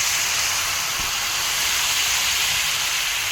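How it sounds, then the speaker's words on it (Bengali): Water poured onto hot fried spice paste in a pan while cooking Bata fish with tamarind, giving a loud, steady broadband hiss like escaping steam that fills the whole clip without pause. "ভাজা হয়ে গেছে, এবার জল দিই।"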